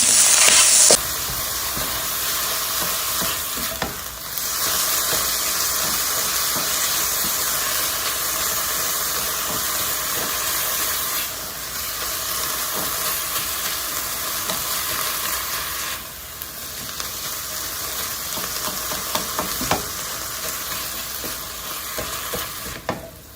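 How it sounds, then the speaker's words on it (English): Turkey sausage cooks with onions in a pot for a lasagna soup. A dense, steady sizzle and hiss carries right through, broken by bursts of spoon stirring and scraping. "I'll let that cook with the onions"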